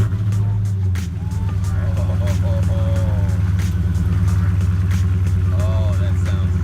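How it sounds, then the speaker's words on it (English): A car engine fires on a cold start with its mid muffler deleted, settling into a loud, steady, throaty idle with a chugging pulse close to the microphone, while people talk over it. "We got a cold start, people."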